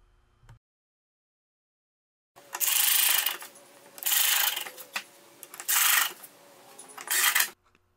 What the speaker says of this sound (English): use some 3/4-inch screws to tighten that down also